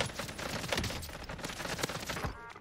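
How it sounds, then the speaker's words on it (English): AK rifle fire in the Warzone battle royale shooter, a dense run of rapid gunshots that fills the whole moment, loud and close, with no talk over it. "This AK has some recoil."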